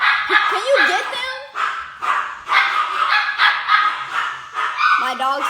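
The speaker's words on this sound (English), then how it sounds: "My dogs think that there's someone at the door right" Several dogs bark and yip repeatedly at someone at the door, in rapid uneven bursts close by, while a person talks over them.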